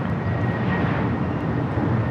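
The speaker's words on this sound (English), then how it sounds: "This arrival on 24 rights is Delta Airlines 753 coming in from Atlanta on the A321" A Delta Airlines Airbus A321 arriving from Atlanta on runway 24 right at Los Angeles International Airport gives a steady, loud jet roar with low engine rumble, continuous and fairly close.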